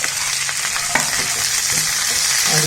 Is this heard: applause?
no